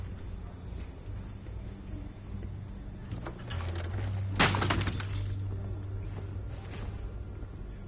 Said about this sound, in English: Oh no, he knocked the picture over.